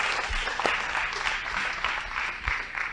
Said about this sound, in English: It's a round of applause, a round of applause.